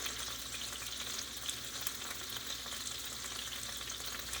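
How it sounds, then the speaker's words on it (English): Onions sauté in a pan over lowered heat for a beef bourguignon, giving a steady, close hiss of frying that holds even and unbroken with no voices over it. "allow the onions to saute and cook through"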